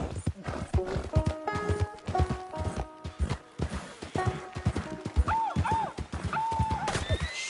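Horse in Red Dead Redemption 2, close hoof clip-clops at a steady walk, followed by loud neighs and whinnies in the latter half.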